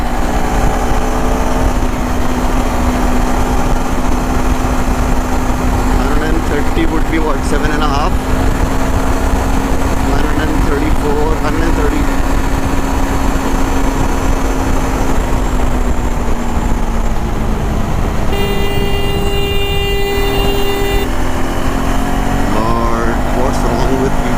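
A 2025 KTM 390 Adventure motorcycle cruises on the highway at around 7000 rpm, its engine a steady, loud drone mixed with wind rush throughout, while a rider talks over it.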